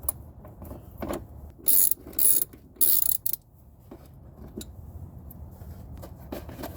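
Ratcheting clicks from a 10mm socket wrench loosening a fitting on a 2020 Camry SE AWD mud guard, close up, with a few short loud bursts amid quieter mechanical ticking.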